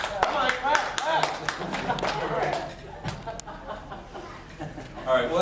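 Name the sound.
audience clapping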